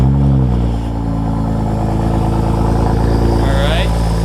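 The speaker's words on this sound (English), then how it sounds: "Turn the car on." A BMW E90 engine runs loud and close with a steady low drone and a brief dip near the start, while a voice speaks over it.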